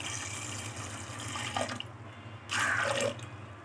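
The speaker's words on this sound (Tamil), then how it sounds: "இப்போ தண்ணி ஆட் பண்ணிக்கலாம்." Water runs steadily from a tap, then a louder splashing pour into a pressure cooker holding chickpeas for about half a second before easing off.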